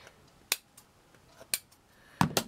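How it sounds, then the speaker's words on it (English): Scissors snip through craft material for a mixed-media strawberry boot house, giving sharp, separate clicks with quiet gaps between them and a quick double snip near the end. "Let me just see if I can cut it with my scissors to even that up a bit."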